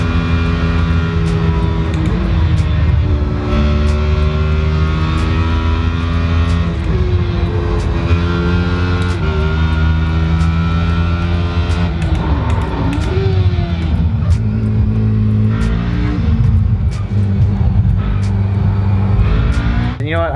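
Race car engine from a racing simulator game lapping the full VIR circuit, a loud continuous drone rising and falling through gear changes and revs, steady for the whole stretch with no voices.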